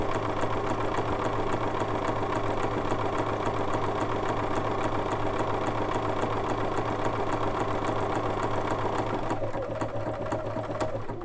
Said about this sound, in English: now it's going to come stitch that satin stitch down the right side.